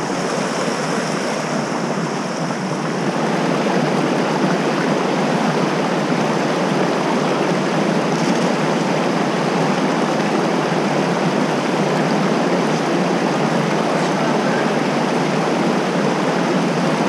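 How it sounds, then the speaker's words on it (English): Water and gravel rushing through a gold prospecting sluice on a winter California creek, a dense, steady roar that stays constant throughout with no voices. "Alright, we got the sluice all set up over here."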